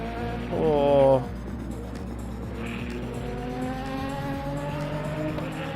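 LMP2 race cars in a racing video game drone steadily with harmonic engine notes. A brief louder rising rev or tire squeal comes early, then a continuous engine hum.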